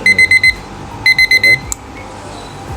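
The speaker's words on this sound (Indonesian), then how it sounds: "Untuk yang punya kitchen timer seperti ini" A kitchen timer beeps in two quick bursts of four shrill electronic tones, close and loud, followed by a click and a brief spoken word.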